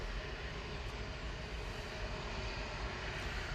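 A KLM airliner departing Manchester Airport for Amsterdam, heard as a steady, dense engine roar with no clear rise or fall across a short stretch.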